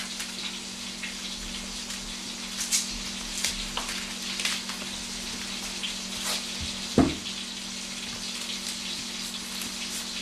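Chopped onion from a very large onion going into a hot pan, with a steady sizzle and frying hiss held close throughout and a sudden louder spatter near the end, no one talking.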